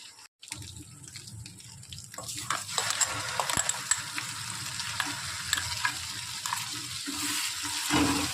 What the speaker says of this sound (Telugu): మొత్తం ఆయిల్ పైకి వచ్చే వరకు కలపాలి.